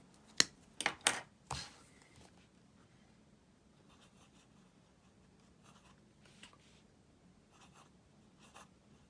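A Lamy Safari Pastel 2019 special-edition fountain pen with a fine nib writing on paper: a few sharp taps and scratches at the start, then faint, sparse nib strokes in a quiet room.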